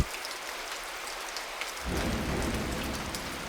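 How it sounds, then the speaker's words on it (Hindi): Heavy rain falling in a thunderstorm, a dense constant patter that suddenly swells into a louder, deeper roar partway through and stays heavy to the end. "ये बारिश रुक जाए?"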